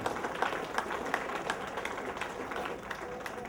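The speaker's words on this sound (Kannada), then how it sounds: "ಜೋರಾಗಿ ಚಪ್ಪಾಳೆ ಬಂಧುಗಳೇ" Audience applause greets a guest being welcomed with a garland at a ceremony: a dense, steady patter of many hands clapping at moderate volume throughout, with no clear voices.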